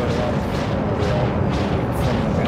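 The VS Bastion fleet carrier fires its guns in the PlanetSide 2 video game, producing a dense, continuous barrage of booming rumble with repeated heavy blasts that swell and fade throughout.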